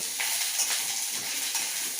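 Curry leaf chutney ingredients sauté in a pan over a raised gas flame, giving a steady close sizzle with soft stirring scrapes throughout and no voices.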